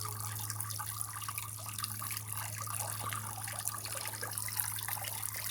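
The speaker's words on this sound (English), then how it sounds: "Looks like we have to put more water in the fountain." Water trickles steadily in a garden fountain, a faint, continuous splashing with small drips, under a low steady hum and with no talk.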